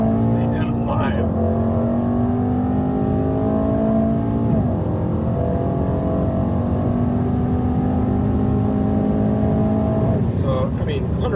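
Mercedes-AMG E63 S station wagon at highway speed near 135 mph, a continuous loud engine drone with climbing gear pulls and brief shift breaks, recorded from the cabin.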